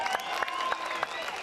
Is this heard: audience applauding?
yes